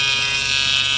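A battery-powered Derwent electric eraser running, a loud, steady high-pitched buzz like a shaver, held close and continuous throughout.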